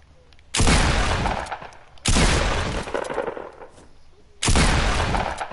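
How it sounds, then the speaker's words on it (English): Gunfire in an online shooter video game, three heavy, loud bursts of shots spaced about two seconds apart, each ringing out and decaying, with no talking over them. "I'm hearing gunshots too."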